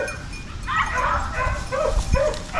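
Five-month-old puppies bark and yip in quick, high bursts over steady outdoor background noise, close and fairly loud.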